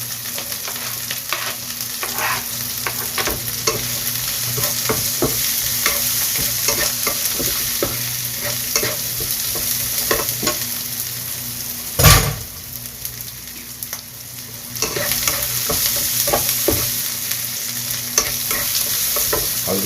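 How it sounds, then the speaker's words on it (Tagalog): Carrots go into pancit canton being stir-fried in a pan, giving a steady close sizzle with repeated scraping and stirring clatter and a brief louder clank partway through. "Lagay na natin yung carrots."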